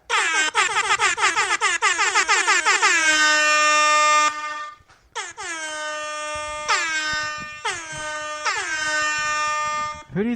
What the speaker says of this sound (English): Bringing a rap air horn.